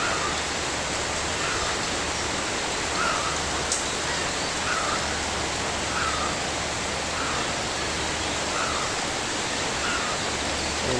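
Steady rain falls continuously on a farm, a dense even hiss with no breaks, loud and close, with no voices.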